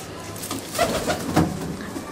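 Racing pigeons in a Punjabi loft give low rolling coos, a few swelling calls close by over a quiet room, without speech.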